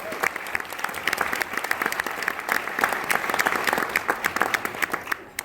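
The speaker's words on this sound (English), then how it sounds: "Please give them a round of applause for that." Audience applause fills a gala hall at a diversity and inclusion event, a steady wash of many hands clapping at moderate distance for several seconds, with faint voices mixed in.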